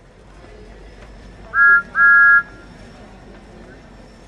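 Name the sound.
Thomas the tank engine whistling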